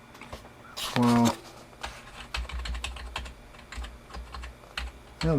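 Keys clatter on an SK8110 PC keyboard in quick irregular bursts of clicks, with a few louder thumps and short beeps mixed in, no one talking.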